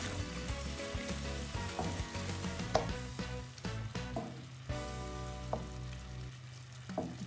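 Coconut milk simmers in a pan for shrimp encocado, a close, steady sizzle and bubble with soft scraping stirs and occasional clinks, no voices.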